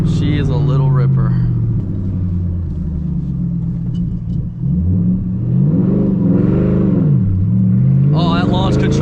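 A 2014 Shelby GT500 revs hard on launch, its engine note climbing and falling in loud sweeping surges before briefly sagging and then rising again.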